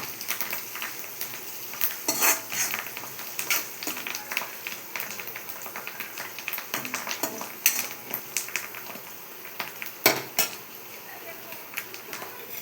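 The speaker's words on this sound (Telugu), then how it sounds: "వేసుకొని ఇట్లా బాగా కలుపుకోవాలి" Chicken curry with a tablespoon of turmeric is stirred in a pan, with spoon scrapes and clinks against metal over a soft sizzle, in irregular bursts throughout.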